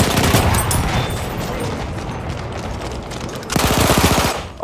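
Rapid automatic gunfire in a first-person shooter video game, dense sustained bursts of machine-gun fire that are loud and close, with a fresh volley near the end.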